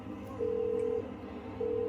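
A telephone keypad plays two sustained touch-tone dialing beeps with a short gap between them, clear and steady over a faint background hum.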